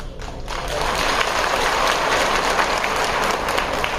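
Sustained crowd applause fills a political rally in Patna where Bhim Army's Azad Ravan addresses the people; dense, steady clapping rises after a quieter start and holds loud throughout.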